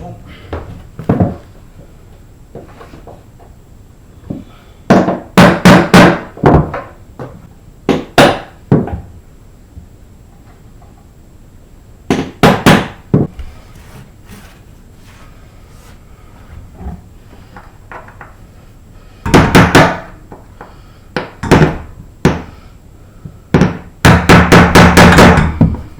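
Hammer blows drive protruding nails down into wooden floorboards during DIY floor preparation, struck in loud close bursts of several rapid knocks separated by pauses, with someone talking between the strikes.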